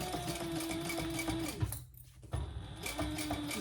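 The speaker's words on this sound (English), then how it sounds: "now we're just gonna baste these sides closed at a very scant" A sewing machine bastes the sides of a crossbody bag closed, running in a close, steady whir that stops briefly and then starts again.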